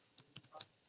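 A few faint, quick keystrokes clatter on a computer keyboard, isolated clicks in a quiet room.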